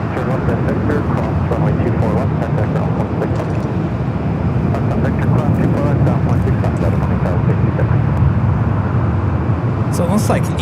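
An American Airlines Airbus A321neo on flight 164 from Honolulu arrives at Los Angeles International Airport with a steady, rumbling engine noise. Voices talk over it throughout.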